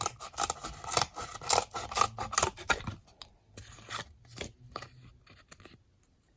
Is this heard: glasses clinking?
no